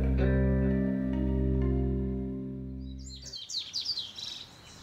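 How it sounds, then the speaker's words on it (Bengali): A cartoon dawn scene opens with a long, loud, processed rooster crow holding steady tones, then cuts to bright, rapid bird chirps twittering with an echoey effect. "মুরগির ডাক আর পাখিদের কিচিরমিচির শব্দ"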